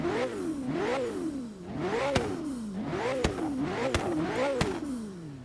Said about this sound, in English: Now, I know it's not the best sounding supercar in the world, but I personally like the sound from the 650S.